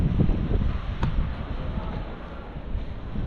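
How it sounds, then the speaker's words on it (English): Steady wind buffeting the microphone at the ancient Roman site of El Jem, Tunisia, a constant low rumble with gusty swells and no voices throughout. "It's a bit windy now."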